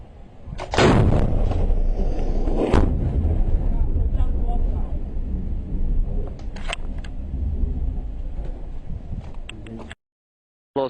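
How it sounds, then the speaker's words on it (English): Sympathetic detonation of explosive ordnance near a Soviet-era artillery position: two sharp, loud blasts early on, each with a rumbling tail, then a long stretch of crackling, popping secondary bangs and debris noise before the sound cuts out abruptly. "A little sympathetic detonation there."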